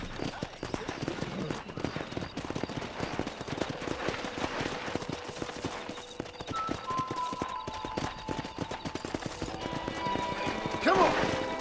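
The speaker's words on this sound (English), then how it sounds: "there's a pack of wild horses nearby" Hooves of wild horses clip-clop steadily in a video game under a busy background, and a horse whinnies loudly near the end.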